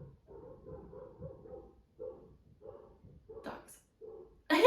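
Several dogs bark in short, repeated bursts at a distance, scattered across the stretch, with a louder, sharper sound near the end.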